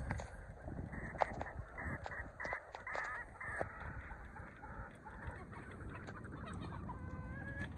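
A stag rooster clucks in a run of short, sharp calls close by, over a faint outdoor background with no talking.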